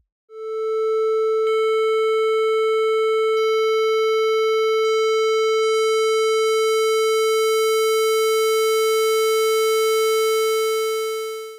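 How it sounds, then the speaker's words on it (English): A sustained synthesized tone run through distortion in Pure Data holds one steady pitch, and as the gain rises its timbre turns progressively brighter and buzzier, with no voice present. "we of course hear the tone becoming brighter as we increase the gain"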